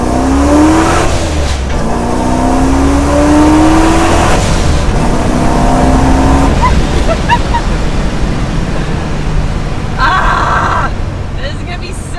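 A supercharged 900-horsepower car pulls hard through second gear, its engine note climbing in rising sweeps over loud wind and road roar, with people talking over it.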